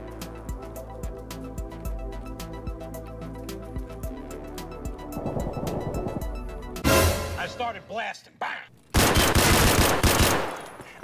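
Gunfire in Escape From Tarkov: steady rapid automatic bursts rattle over game ambience, then louder, harsher close volleys break out near the end, with a voice heard at times.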